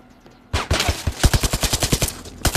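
Rapid automatic gunfire from the Zero Caliber video game comes in close, loud bursts of quick shots with short gaps between them.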